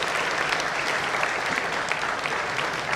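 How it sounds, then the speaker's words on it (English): Audience applause at a college awards event in a large hall, a loud, even wash of many hands clapping at once that holds steady throughout. "please join me in a huge round of applause"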